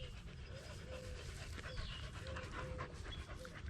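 Dogs pant quickly and steadily close by near a creek in Galt, California, with someone talking over the breathing.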